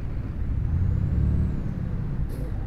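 A heavy truck in Euro Truck Simulator 2 being maneuvered to park, loaded with 37 tonnes, gives a steady low engine drone close by, ending with a brief hiss like an air brake release.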